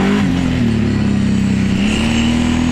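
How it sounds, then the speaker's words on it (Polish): Kawasaki Brute Force 750 ATV revving hard, its engine held at a steady high drone with tires spinning, loud and close with a slight rise in pitch near the end. "Sławek, nie drzyj tych opon."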